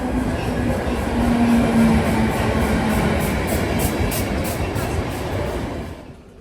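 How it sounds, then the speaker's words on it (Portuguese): Steady rumble and rattle of an intercity passenger train in motion in Poland, wheels clattering on the rails, loud and close, easing slightly near the end. "A viagem no trem Intercidades leva 1h30 a uma distância de pouco mais de 160 quilômetros."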